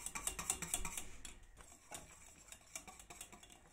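A spoon clinks and scrapes against a pot as semolina milk pudding thickens while being stirred, a rhythm of light metallic taps and rubbing, close and fairly quiet, with no talking.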